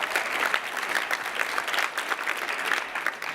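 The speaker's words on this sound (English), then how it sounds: "round of applause." An audience at a community fellowship announcement claps together in a continuous, even round of applause, moderately loud and unbroken for its short length.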